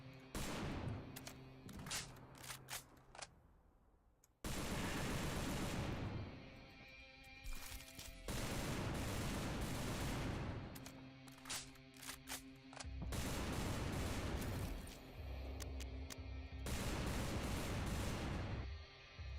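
A modded gun in Left 4 Dead 2 fires in loud sustained bursts, several long volleys of rapid shots separated by short pauses and a few single cracks, with no one speaking.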